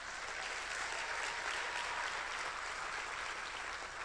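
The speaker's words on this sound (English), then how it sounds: "So give them a round of applause." Audience at a city awards event applauding badminton players, a steady, even wash of many hands clapping at moderate distance, unbroken for four seconds with no talking.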